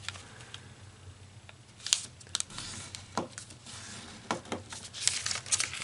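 A sheet of origami paper is folded in half while making a seven-pointed star container, producing soft, close crinkles and sharp papery creasing snaps scattered through the passage, with no talking.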